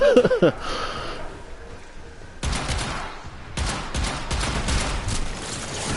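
Rapid gunfire from a weapon in the video game Warframe on PS4, with a brief burst followed by a sustained, dense volley of shots that stays loud and continuous to the end.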